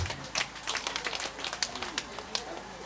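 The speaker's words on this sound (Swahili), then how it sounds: "Makofi na vigelegele kwa kamati yetu ya sherehe" Applause with scattered ululation at a wedding celebration, a dense crowd of claps with sharp peaks running steadily throughout, fairly distant and busy.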